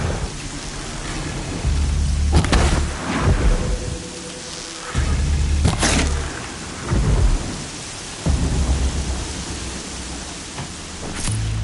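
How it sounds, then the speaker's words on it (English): Heavy rain pours steadily in the video game Horizon Zero Dawn while repeated loud thunder cracks and rolling rumbles break through, several close strikes spaced a few seconds apart over constant downpour. "Raining like it's trying to wash everything away."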